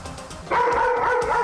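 A big, muscular Doberman gives a single deep bark, close and loud, held briefly with a tonal, howling edge.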